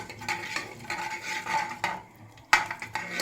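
Mustard seeds and cumin crackle in hot oil in a pan for a thin South Indian saaru, with a soft sizzling hiss under several loud spoon clanks against the metal.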